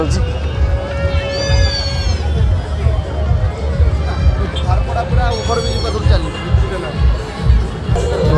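A crowd packs a Durga Puja pandal in Bhubaneswar during Dussehra, making a loud, steady hubbub of many voices, with shrill high squeals and calls rising above the constant noise.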